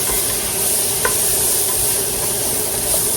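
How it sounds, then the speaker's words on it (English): Flour being stirred into a lamb stew in a pot, an even, continuous sizzle and bubbling with a faint scrape of a spoon near one second, nobody talking. "Let's just add 1 tablespoon of flour, because like I said, I don't want it too thick for my lamb stew. I'm going to mix that in there."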